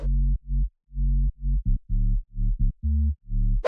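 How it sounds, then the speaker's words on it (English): A synthesized sub bass for a future house track pulses in short, chopped, rhythmic hits, deep and clean with brief gaps between the notes, playing alone. "Sub bass."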